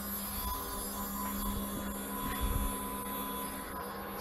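A new CNC router's spindle runs with a steady high-pitched whine and broadband hum, continuous and fairly close, with faint mechanical rumbles underneath and no talking.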